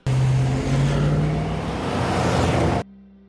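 A car engine runs loud and close as vehicles pull up, a heavy steady rumble with a low humming tone that stops abruptly near the end.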